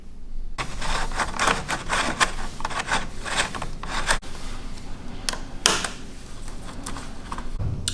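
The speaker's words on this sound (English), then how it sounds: "I've just loosened the handguard and pulled it away" A motorcycle handguard is loosened and pulled away from the handlebar, giving close, steady rubbing and scraping with a few sharp clicks and one abrupt knock in the middle.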